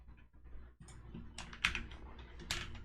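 Soft computer keyboard typing, with a few quiet scattered key presses followed by sharper, louder clicks close by, and no voices.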